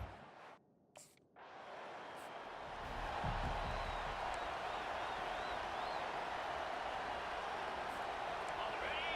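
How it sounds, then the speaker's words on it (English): Stadium crowd in the EA Sports College Football 25 video game, Georgia Bulldogs versus Texas A&M: a dense, sustained roar that swells and holds steady after a brief dip near the start, with faint whistles on top. "This crowd, full throat, splitting the eardrums and letting them know it's going to be a long day."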